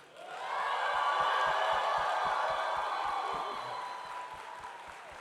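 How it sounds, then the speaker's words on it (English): An audience applauds and cheers in welcome for actress Dominique Thorne, clapping swelling quickly to a full, steady roar with a few whoops, then easing off toward the end while a rhythmic beat thumps underneath. "would you please give an amazing round of applause to Dominique Thorne"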